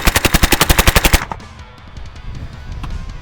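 A Polish PM63 machine pistol rips off a fast burst of about fifteen evenly spaced loud shots in just over a second, then stops, leaving a quieter echoing tail with faint clatter.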